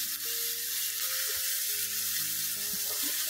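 Chicken legs pan-frying over medium heat on a small home stove, giving a steady, continuous sizzle throughout, with soft tonal background music underneath.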